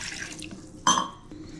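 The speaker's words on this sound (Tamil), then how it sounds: "தேவையான அளவுக்கு தண்ணி ஊற்றி கலக்கணும்." Water is poured into a bowl of carrot chutney while cooking, giving one short, close splash-and-trickle burst in a quiet kitchen with no talking.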